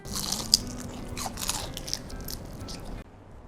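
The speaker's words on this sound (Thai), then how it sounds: "จะชิมดูนะว่าแป้งกรอบหรือเปล่า" Crispy batter-fried calamari bitten and chewed up close, with a sharp initial crunch followed by repeated crackly munching that stops abruptly near the end.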